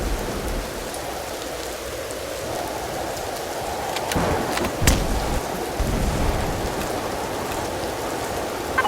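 Heavy rain pours in a windy storm in the game Empyrion Galactic Survival, a loud, steady hiss of falling water with scattered louder drops and gusts throughout.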